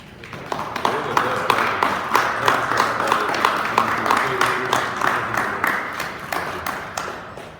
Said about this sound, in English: A round of applause for Senior